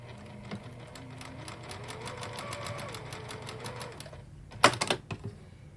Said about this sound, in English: So here we are at the sewing machine.